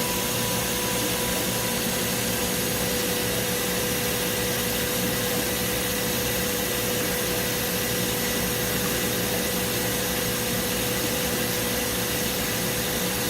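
A K&S 982-10 Plus dicing saw runs a slow optical height check, giving a steady mechanical hum and whir with a constant tone throughout, with no one speaking.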